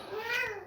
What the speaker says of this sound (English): somewhat sorry about my cat in the background.